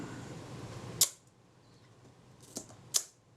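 Shutter of a Kodak Retina IIa camera being cocked and tripped, sharp mechanical clicks: one crisp snap, then a softer click and another crisp snap, close and isolated against quiet.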